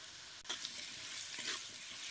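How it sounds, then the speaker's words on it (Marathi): Cashew paste roasting in oil in a village kitchen gives a steady, faint sizzle and crackle with brief stirring scrapes. "तेलात चांगलं भाजून घ्यायचं"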